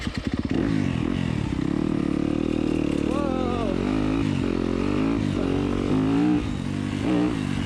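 A two-stroke dirt bike engine runs close and loud, a steady buzzing idle with short rises in pitch as the throttle is blipped, while people talk over it.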